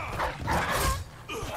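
A dog in Dishonored 2 barks and growls close up, a few rough aggressive barks in quick succession with no talk.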